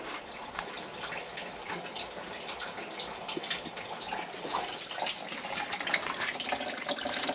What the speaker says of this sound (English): this is the water flow right now.